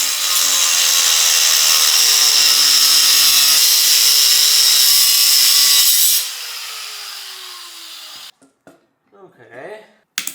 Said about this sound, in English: I need to take a Dremel or an angle grinder and cut these brackets so I can remove these hard lines